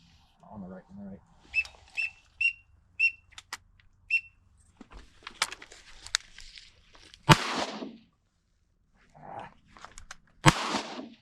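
Shotgun blasts during an opening-day duck hunt over flooded corn in thick fog: two loud, sharp reports several seconds apart, following a run of quacking ducks and soft rustling.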